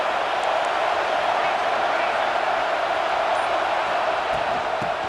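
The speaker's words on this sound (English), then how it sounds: "It's early, but this crowd is fired up. Listen to this noise here." Stadium crowd roaring steadily throughout in the EA Sports College Football 26 video game, a dense, loud wash of cheering from a fired-up early-game home crowd, with no clear talk standing out.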